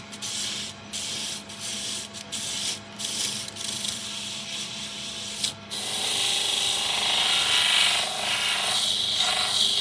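A turned wood piece is sanded on a lathe. Soft intermittent rubbing strokes come first, then a steady, louder abrasive hiss as the sandpaper is held against the spinning wood.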